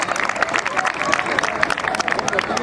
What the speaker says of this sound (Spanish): Vamos a brindarle fuerte y enorme el aplauso.